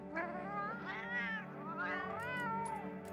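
A cat meows repeatedly in Monster Hunter Wilds, several drawn-out, rising and falling meows in close succession, loud and clear over a steady game background.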